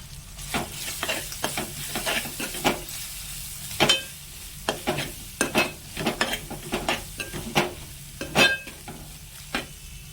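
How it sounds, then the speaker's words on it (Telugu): Turmeric and spices fry in a pan while being stirred, producing irregular scraping and clattering strokes over a soft sizzle, close and fairly loud, with no talking. "దీన్ని ఒక 2 నిమిషాలు అలా వేగనిచ్చి"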